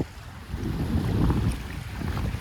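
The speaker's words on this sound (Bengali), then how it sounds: "বড় ঢেউ।" Low, rolling surge of waves washing in on the Jubail sea shore by the Strait of Hormuz, with wind buffeting the microphone; no voices, fairly quiet and continuous.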